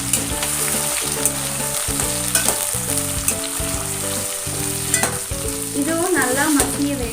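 Two medium chopped tomatoes frying with browned onions in a pan for South Indian chicken gravy, a loud continuous sizzle with crackling pops and occasional scraping stirs throughout.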